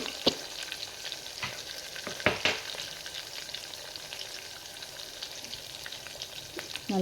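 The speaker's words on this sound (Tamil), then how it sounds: "வெங்காயம் நல்லா வதங்கி நேரம் ப்ரௌன் கலரில் வரணும்" Onions, ginger, garlic and green chilli sauté in a hot pan for tomato rice, with a steady sizzle of frying, a few sharp stirring scrapes and clatters, and no talking.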